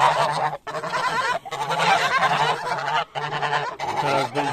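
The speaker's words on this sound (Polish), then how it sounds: "A gąski już czekają." Domestic geese honk loudly and continuously in a farmyard at evening, a dense flock chorus of repeated nasal calls with brief pauses, close and overlapping, no talking.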